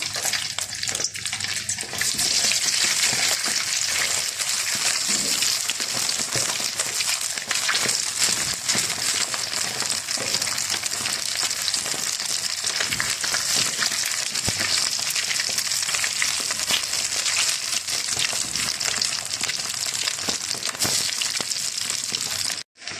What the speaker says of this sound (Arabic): نمشي بقى عليها طاسه فيها زيت سخن، بنزل عليها في المنقار